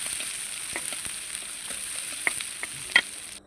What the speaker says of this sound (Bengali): প্রথমে মরিচ পেস্টটা ভালোভাবে ভাজবো